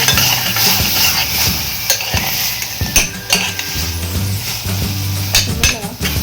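Mutton keema being stirred in a hot pan, a spoon scraping and clinking against the metal over a steady sizzle, with repeated stirring strokes close up.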